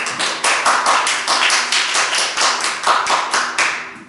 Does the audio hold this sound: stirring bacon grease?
no